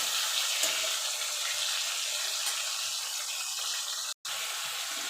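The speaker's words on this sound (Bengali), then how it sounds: "এবার টমেটোটাকে একটু নাড়াচাড়া করে গলিয়ে নেবো" A chopped tomato is stirred in a frying pan as it cooks down, giving a soft, continuous hiss with occasional faint scrapes and a brief cut near the end.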